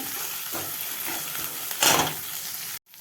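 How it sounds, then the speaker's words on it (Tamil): Onions and green peas frying in a pan for a samosa filling, a continuous sizzle with scraping stirs and one louder burst of hiss before the sound cuts off briefly near the end. "வெங்காயம் இன்னும் ஒரு ஒரு ரெண்டு மூணு செகண்ட் வதக்கிட்டு பட்டாணி இந்த மசாலாலாம் அதில் போட்டுடலாம்"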